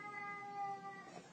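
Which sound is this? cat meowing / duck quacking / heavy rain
cat meowing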